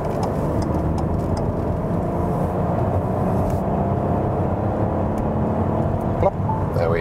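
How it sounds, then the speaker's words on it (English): Ford Focus ST-Line hatch with a 1-liter turbo petrol engine accelerating in third gear from 60 to 100, a steady engine drone and road noise heard from inside the cabin, continuous and fairly loud. "So now we can also get some flexibility, acceleration, 60 to 100 in the 3rd gear."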